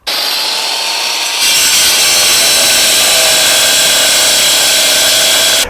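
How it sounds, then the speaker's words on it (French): A power saw fitted with a multi-purpose concrete disc cuts through a drainage beam containing three 8 mm reinforcing bars, starting with a brief quieter lead-in before a loud, steady abrasive grinding whine carries on continuously with no talk. "on va plutôt prendre un disque multi-usage, puisqu'en fait dedans on a 3 tors de 8"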